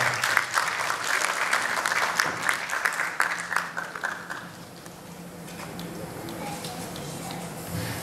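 An audience at a film audio launch event claps loudly and densely to welcome a guest onto the stage, then the applause fades into quieter hall ambience.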